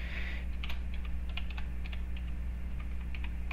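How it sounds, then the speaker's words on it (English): Keys on a computer keyboard tapped in an irregular run of light clicks while entering a password during a Raspberry Pi software install, close up over a steady low electrical hum. "Apply, password."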